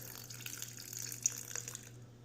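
Water poured into a sourdough starter in a kitchen, a steady soft stream with a brief louder splash near the middle, quiet and close, alone with a faint low hum underneath.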